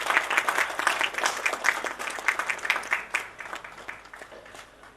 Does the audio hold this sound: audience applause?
yes